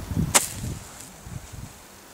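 A New Year's Eve firework goes off as a single sharp, loud crack near the start, followed by faint outdoor rumble and trailing noise.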